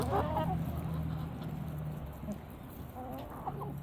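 Chickens cluck softly nearby in a few short bursts, fairly quiet over a low background hum.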